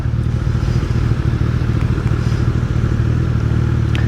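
A Suzuki Hayabusa sport motorcycle on the move gives a loud, steady engine drone with a deep rumble. It runs continuously for the whole stretch with no voices.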